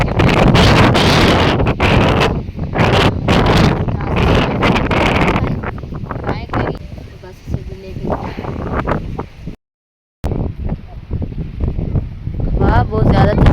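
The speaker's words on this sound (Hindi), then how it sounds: "हवा बहुत ज़्यादा चलने लगी है" Strong, cold wind gusting outdoors, roaring and buffeting the microphone in loud, rough bursts that ease off midway and pick up again after a short dropout.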